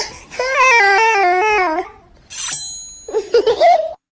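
A child lets out a long, wavering scream and cry, then a short hiss and a few broken, sobbing vocal bursts.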